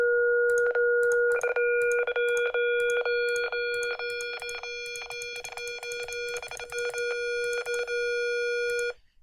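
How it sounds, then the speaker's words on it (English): A synthesized square wave is approximated by adding sine terms: a steady pure tone that grows brighter and buzzier in steps as higher harmonics join, with short clicks marking each change, loud and alone. "So let's go and listen to what a square wave sounds like."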